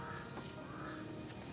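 A crow caws faintly in the distance over a steady hum of outdoor background noise.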